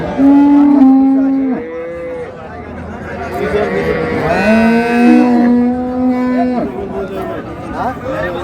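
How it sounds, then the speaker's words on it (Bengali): Dairy cows and calves low loudly at Raniganj cattle market in Dinajpur, with two long, drawn-out moos close by and a busy crowd chattering underneath. "গাভী বাছুর"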